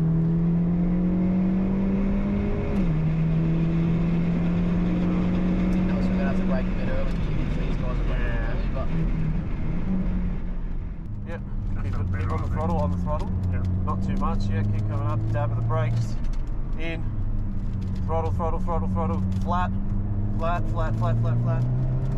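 A race car engine howls at full throttle on a track day, heard from inside the car as a continuous loud drone that shifts pitch through the gears while an instructor talks over it.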